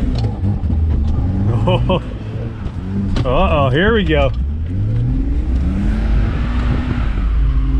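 Old 4x4 truck engine revving hard on the gas, rising and falling in several quick surges before settling into a rough idle rumble, close and loud, with someone talking over it.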